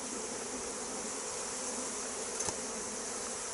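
Honeybees being smoked back into their hive give off a steady, dense buzzing swarm drone, close and continuous, with a brief faint knock partway through.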